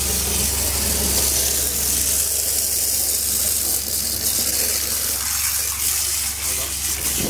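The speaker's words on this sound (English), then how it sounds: "can you pull your flush please?" A toilet flush sending water gushing down a blocked drain being jetted, a continuous loud rush through the pipe with engine-like machinery running underneath and a voice talking over it.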